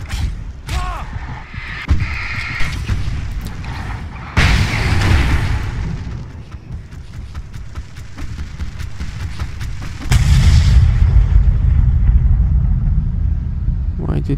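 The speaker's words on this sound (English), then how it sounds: "Why did that explode?" An explosion in Alan Wake Remastered at a rock concert setting, a loud booming burst with rumbling low-end that swells suddenly and lingers, layered with game music and a voice talking.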